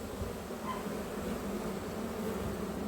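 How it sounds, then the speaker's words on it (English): Honeybees buzz in a steady, low drone throughout a spring hive inspection, a continuous insect hum close by with no talking over it. "Nothing but bees."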